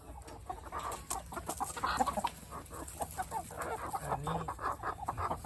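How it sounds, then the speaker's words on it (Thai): Black chickens on a Thai poultry farm cluck steadily and overlap one another, with a brief low call near the end, all close and fairly loud against a busy flock background. "ดูนะครับอันนี้คือไก่ดำทั้ง หมด นะครับ ไก่ดำร้อยเปอร์เซ็นต์จริง ๆ"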